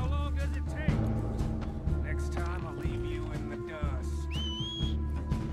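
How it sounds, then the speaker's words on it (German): A rider whistles for a horse in Red Dead Redemption 2, short rising and falling whistle tones over steady game background music and hum, with a clear higher whistle near the end. "Pferd gepfiffen."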